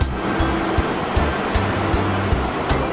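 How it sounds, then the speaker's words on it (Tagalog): Ocean surf rushes steadily, with waves breaking in soft repeated thumps under a constant wash of water noise. "Ang ganda ng alon dito mga idol oh."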